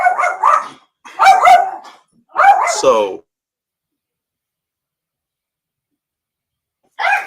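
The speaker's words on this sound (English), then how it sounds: "Had to get the young dog together real quick." A young dog barks three times in quick succession, loud and close, then falls silent before a voice briefly begins to speak.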